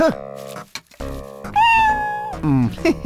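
A cat meows in a long drawn-out call, loud and close, amid a busy Hindi-dubbed film scene with music and other sounds around it.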